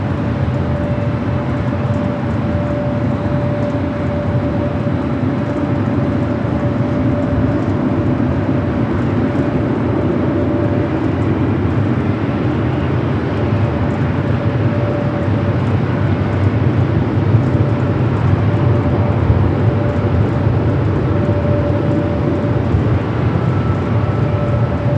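A Singapore Airlines Boeing 777-300ER takes off at LAX, its jet roar a constant, loud, broad rumble with a steady whine over it, lasting throughout without speech.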